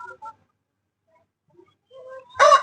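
A rooster and hen clucking, with brief soft clucks spaced apart in near silence, then a louder burst of fowl sound at the end.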